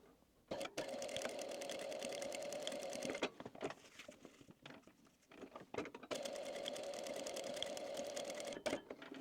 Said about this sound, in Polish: I zaczynam szyć.